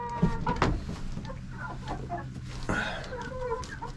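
Chickens about four months old cluck and murmur in a cheap coop built from salvaged lumber, with scattered close calls and some rustling. A voice is faintly present.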